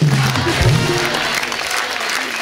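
Steady studio audience applause for a singer on The Kapil Sharma Show, a dense wash of clapping at fairly even loudness, with a faint voice briefly underneath.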